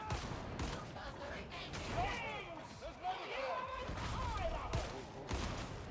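Rapid bursts of gunfire in a Warhammer 40K video game, a dense, continuous volley of shots with scattered impacts, heard under a voice talking.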